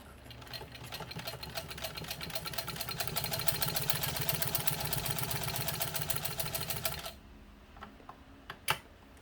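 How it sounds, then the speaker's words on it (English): A 1948 Singer 15 sewing machine stitches through a single layer of leather in a fast, even run of needle clatter for about seven seconds, then stops, followed by a few faint clicks. "So the machine goes through one layer of leather very easily."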